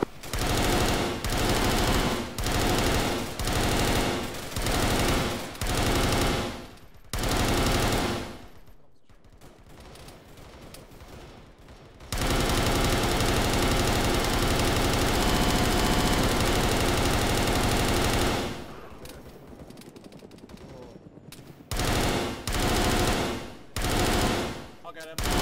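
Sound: gunfire in Arma 3 video game

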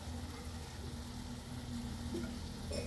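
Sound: cooking cucumber with lentils in pan

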